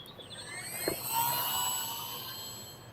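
An E-flite Valiant RC airplane flies close by, its small electric motor giving a steady high-pitched buzzing whine that swells slightly as it passes and then holds, with no talk over it.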